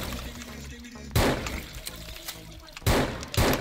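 Shotgun blasts in a Skibidi Toilet action game, two sharp broadband bursts cutting through a busy game soundtrack, the second followed quickly by a third shot.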